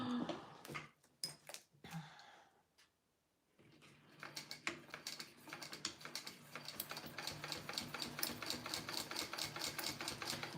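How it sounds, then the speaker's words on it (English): An industrial sewing machine runs a double row of stitching on a wallet. A few separate clicks and handling knocks come first, then after a short pause a fast, even mechanical chatter builds steadily. It is fairly quiet and close. "I'm actually gonna do a double row of stitching here just because my other side was at such a small turn"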